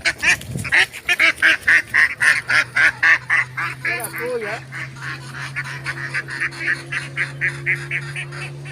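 Ducks and geese at a poultry coop on an embankment in Barishal give a rapid run of loud, regular honks, then a looser scatter of calls over a low steady hum.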